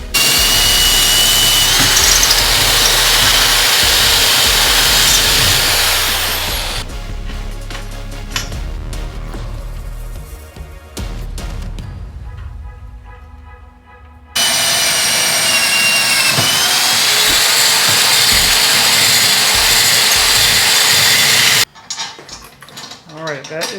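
Power tool driving bolts into a trailer roof rack, heard as loud sustained whirring bursts with pauses between runs, close by, with no talk over it.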